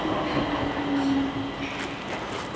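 A train passes through a station with a loud, steady rumble, a brief high squeal from the wheels, and faint clatter in the background.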